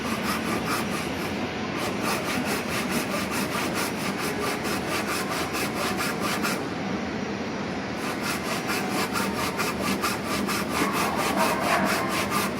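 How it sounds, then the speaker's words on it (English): A hand saw cutting wood clamped in a vise makes long, even back-and-forth strokes, loud and close. The rhythmic rasping runs throughout with one short pause, and nobody speaks. "So nice long strokes of the saw."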